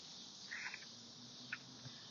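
Cicadas drone in a steady, high, even buzz that runs unbroken through the whole stretch, with a couple of faint brief chirps or rustles on top and no voices.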